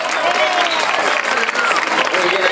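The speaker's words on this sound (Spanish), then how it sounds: "Fuerte el aplauso de la zona." A crowd claps loudly and continuously at a lively event, with an announcer's voice and crowd noise mixed over the applause.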